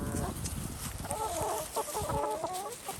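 Chickens cluck repeatedly at close range, a busy overlapping chatter of short calls around someone walking among the birds.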